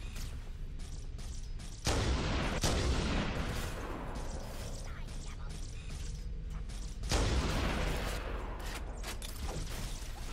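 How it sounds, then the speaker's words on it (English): Explosions in the video game Halo: Combat Evolved on legendary difficulty sound as heavy booming blasts, two big bursts among rumbling gunfire and chaotic combat noise, with a voice talking over the action. "Ah, here comes the explosion."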